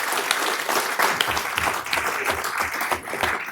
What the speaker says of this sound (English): Let's give them all one more enthusiastic round of applause.